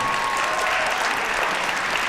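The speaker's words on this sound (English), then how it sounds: "Let's have a nice round of applause for Morris." An audience at a songwriting master session applauds, a steady, even wash of many hands clapping at moderate volume throughout.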